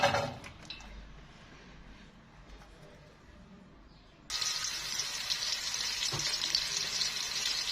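Chopped onions hit hot oil in a pan for an Egyptian potato and rice dish, bursting into a loud, steady sizzle after a few seconds of quieter kitchen noise, then hissing continuously and up close.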